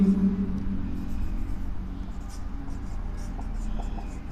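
Chalk or marker scratches across a board during a physics lecture on optics, a faint, steady scraping with light taps over a low room hum.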